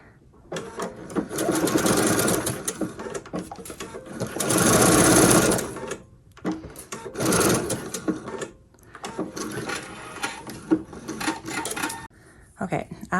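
Sewing machine stitching pieces of fabric for a child's fairy dress-up set, its motor whirring in several loud runs separated by short pauses, with some faint background sound between runs.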